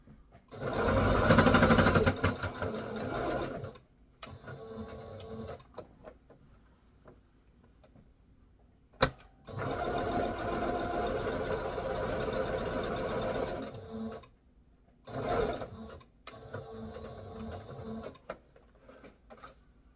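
A sewing machine stitches the top of a bodice with shirring thread in several bursts of fast, buzzing needle motor, separated by quiet pauses and small handling clicks, one long run in the middle and shorter spurts toward the end.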